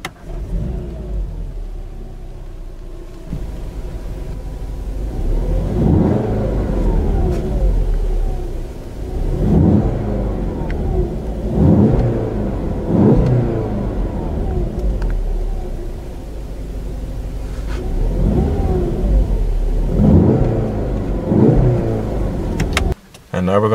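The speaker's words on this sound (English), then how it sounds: "let's power on the engine and see how it sounds. So the first startup will be in normal mode." A 2016 Volkswagen Golf R engine started in normal mode, settling into a low idle rumble with several repeated revs rising and falling at a steady pace.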